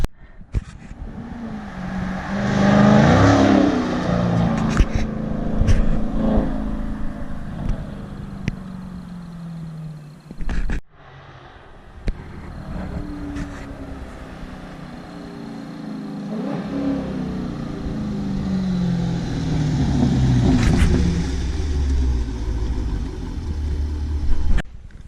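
Dodge Scat Pack car engine after a resonator install, revving loudly in repeated rising bursts with a deep rumble, close by, with a brief drop near the middle and steady idle between revs.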